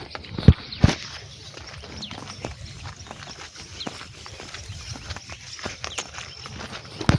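A cow walking ahead along a road, its hooves giving irregular clopping steps at a moderate distance, with a couple of louder knocks early on and light background noise.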